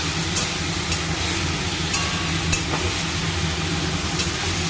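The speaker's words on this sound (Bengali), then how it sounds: "এবার এটা একটু কষিয়ে নেব" Fresh tengra fish with a little water and spices sautéing in a pan with winter potatoes and eggplant, a steady low sizzle with faint clinks of stirring throughout.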